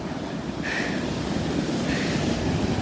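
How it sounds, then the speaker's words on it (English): Large ocean waves crash steadily onto a beach at night, a broad roaring surf wash with wind buffeting the microphone and swells surging twice. "But the waves are so crazy."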